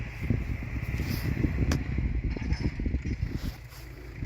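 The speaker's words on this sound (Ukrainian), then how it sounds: "Ось отак от їде трактор." A tractor drives across a field pulling a hitched frame carrying nine harrows, a dragged pipe and two rear wheels, closing soil moisture; a steady low engine rumble with rattling implement noise runs throughout, fairly loud and close, with no talking.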